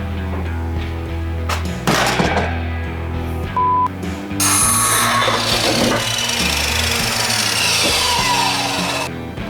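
A power saw cuts a piece for a 1948 GMC pickup truck build. The motor drones loudly and steadily while the blade rasps through the material in uneven bursts, and no one speaks.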